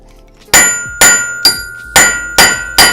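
Six sharp metallic hammer strikes ring out at a steady pace, each clang bright and close with a brief ringing tail, as wheel studs are hammered out.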